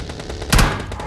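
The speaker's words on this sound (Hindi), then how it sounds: "तब एक बंदे ने मेरे ऊपर फायर किया यहाँ पर" Gunfire in the battle royale game PUBG Mobile Lite, a short burst of shots aimed at the player, loud and close, standing out over a steady game background.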